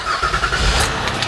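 An engine cranks and catches on a 2007 vehicle during a battery voltage check, a steady low rumble running loud and continuous through the short moment.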